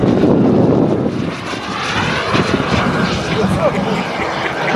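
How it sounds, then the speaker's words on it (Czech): A radio-controlled Eurofighter Typhoon model jet flies at a model airfield, its loud engine roaring and whooshing steadily overhead, with a voice talking over it. "Eurofighter."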